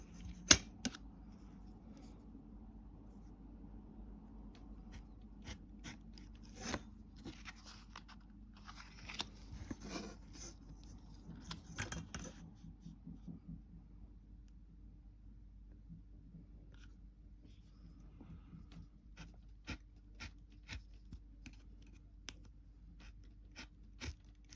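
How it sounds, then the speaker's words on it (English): A blade slices through thick, tough material for a miniature apartment build, giving faint, scattered scraping and clicking cuts in repeated strokes, with quiet gaps between them. "you got to kind of slice through it a couple of times because it is quite thick"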